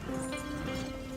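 Horse hooves clip-clopping along at a steady gait in the Red Dead Redemption video game, a short continuous run of hoofbeats with a sustained tone in the background.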